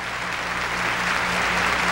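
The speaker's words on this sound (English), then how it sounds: "The audience, of course, applauding." A concert audience applauds steadily after a piano concerto as the pianist returns to the stage for another bow, a thick, even wash of clapping heard fairly close and alone.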